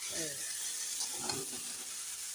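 Spice masala for aloo dum sizzles and spatters steadily in hot oil as it is fried down dry, a continuous bright hiss with a few soft stirring scrapes, close and alone.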